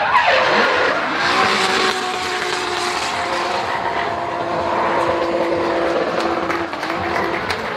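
A race car takes the Sachs curve at Hockenheimring. It comes in with a loud, close engine note whose pitch sweeps and holds through the corner, and a sustained tyre squeal slides under it as it passes.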